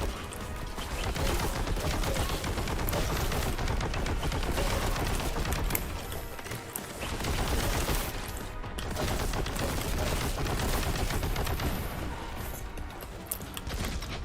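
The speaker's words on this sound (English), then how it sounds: "I think I have enough ammo for my heavy bolter to make these guys no longer be an issue" A heavy bolter firing in Warhammer 40k: Boltgun unleashes a relentless, loud stream of rapid booming shots mixed with crashing impacts, broken only by a brief lull midway.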